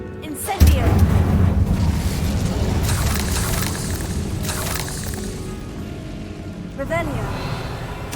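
Fire spell cast in Hogwarts Legacy: a heavy whooshing boom at the start trails into a sustained roaring rumble, fading before a second smaller burst near the end, with game ambience underneath.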